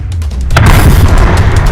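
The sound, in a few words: cannon shell fired, explosion boom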